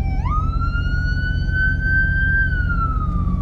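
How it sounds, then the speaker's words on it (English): An ambulance siren wails past a truck on the road, its tone rising sharply, holding high, then sliding down as it moves away, loud over a constant low engine rumble. "There's an ambulance."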